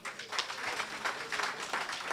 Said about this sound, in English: Round of applause for Wayne.